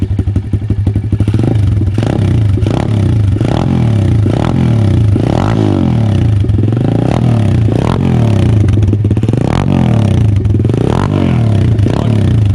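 A pit bike fitted with a cheap aftermarket eBay slip-on muffler runs loud and close. Its throaty engine note rises and falls in repeated blips, with a raspy exhaust pulse underneath. No speech.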